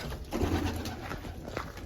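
A close, low pigeon coo rolls out briefly, soft and throaty, against a quiet hissing background.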